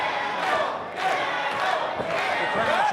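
A wrestling crowd at a live show in Port St. Lucie cheers and chants for Jackal, a loud, continuous roar of many voices rising and falling over a few seconds.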